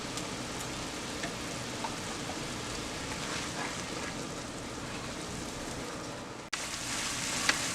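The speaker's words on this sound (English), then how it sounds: "And now I'm going to turn my stove to medium and just keep cooking it." Liberian coconut candy cooking in a pot on a stove over medium heat, a steady close bubbling sizzle like light rain, briefly cut off near the end before resuming with a couple of faint clicks.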